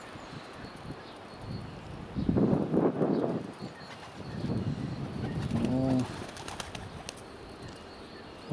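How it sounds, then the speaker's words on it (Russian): Pigeons outdoors in snow, a couple of soft coos and a burst of wing flapping close by, with a short low vocal sound and quiet street ambience around them. "Вот еще один какой интересный голубь."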